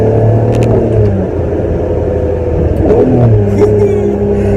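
A Ferrari 550 Maranello's engine revs and pulls hard nearby, its loud roar rising and shifting through the gears with a steady rumble underneath.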